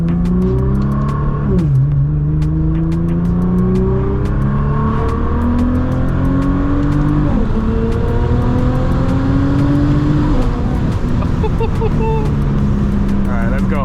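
A Nissan GT-R R35 with a 4.1L engine is driven and recorded from onboard, its engine repeatedly revving up through the gears in rising sweeps with brief dips at each shift, loud and close, with clicks and road noise.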